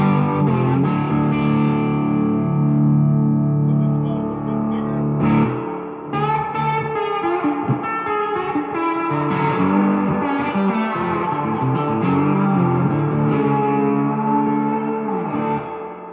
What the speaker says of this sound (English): That's full on dwell. That's a lot of reverb.